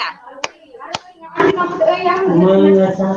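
Hand clapping in a counted pattern: one sharp clap, a short pause, then another, followed by a third clap as a voice begins speaking over it, close and clear in a room.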